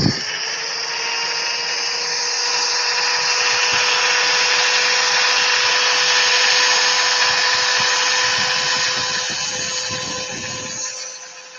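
Sandpaper at 240 grit pressed against a spinning wood turning on a lathe makes a loud, steady whirring hiss that holds for about eleven seconds before easing off as the motor winds down.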